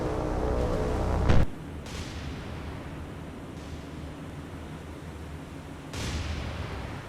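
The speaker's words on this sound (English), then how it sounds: "It looks like they're doing some skip bombing." Skip-bombing explosions in the naval war game War on the Sea: a loud, sharp blast near the start fading into a long rumble, then a second, softer boom several seconds later, with no talking.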